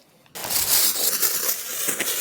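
After a brief near-silent moment, a crinkly thermal blanket rustles loudly and continuously as it is wrapped around a service dog during emergency first aid.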